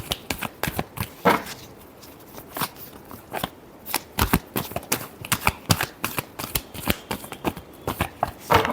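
Tarot cards shuffled by hand in a series of rapid, crisp riffling bursts and soft slaps, close and fairly loud, continuing steadily throughout with no talking.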